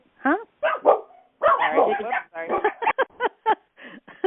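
Dog barking repeatedly in short, sharp yips and bow-wows, close and clear in a quiet room, in irregular bursts with no other sound.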